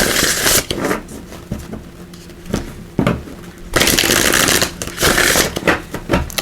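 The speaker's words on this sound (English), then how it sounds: "we are going to be pulling cards from the Celebration of Love Oracle" A deck of Celebration of Love Oracle cards is shuffled close by, loud riffling bursts alternating with softer handling and shorter flicks, with no voice present.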